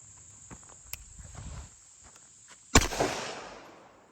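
A single .45 ACP gunshot from a Colt 1911 Mark IV firing 230 grain ball at a bulletproof backpack, one sharp loud crack followed by a short decaying tail, with a steady insect-like whine and faint handling noises before it.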